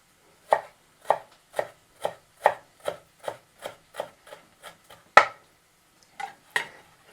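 A knife finely dices ginger on a cutting board, about a dozen crisp, evenly spaced strokes with a louder hit near the end, then two more.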